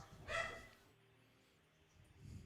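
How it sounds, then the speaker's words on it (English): A single short, faint dog bark heard from another floor of the house, muffled and distant, then a low quiet background. "The dog's barking downstairs."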